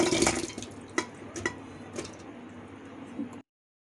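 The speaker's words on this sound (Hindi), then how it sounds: "इसमें हम पानी डाल लेते हैं" Water splashes and trickles into a metal pressure cooker in short uneven pours for a few seconds, close up, then stops.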